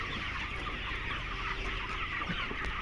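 Broiler chickens on a contract broiler farm cluck in a soft, scattered chorus, with short calls popping up here and there over a constant low barn hum, fairly faint and with no voices.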